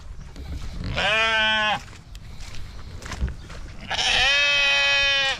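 Two loud, wavering bleats from a nearby sheep, separated by a couple of seconds of quieter rustling and shuffling.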